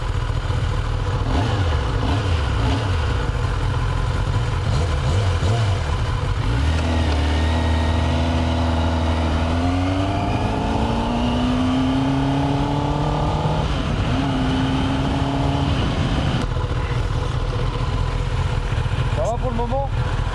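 Kawasaki Ninja ZX10R sport motorcycles, a 2024 40th anniversary model and a 2016 model, riding on the road, with a steady engine drone rising in pitch through gear changes, heard under continuous talking and wind noise.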